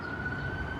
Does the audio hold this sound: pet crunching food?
no